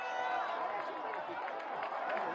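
A crowd gathered outdoors to watch a solar eclipse bursts into applause and cheering, a dense, continuous mix of clapping and excited voices at moderate distance.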